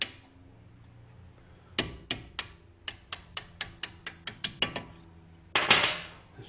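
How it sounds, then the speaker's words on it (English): Sharp metallic taps of a drift punch driving brake pad retaining pins out of a 2008 Mercedes E350 front caliper, about a dozen evenly spaced close strikes followed by a louder clattering burst. "you get your little drift and tap those pins out"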